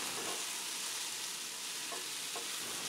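Potato slices fry in a little oil in a pan over high heat, a close, even, continuous sizzle with faint crackles and no talking.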